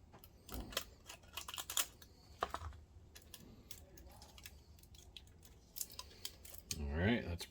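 Scissors snip fresh Kapton tape during a Viewsonic Pro8500 DLP projector repair, a few sharp close clicks and cuts scattered among handling rustles, with a brief louder crinkle near the end.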